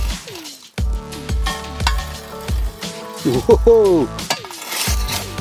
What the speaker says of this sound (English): And now we've got to bung some coals on the lid.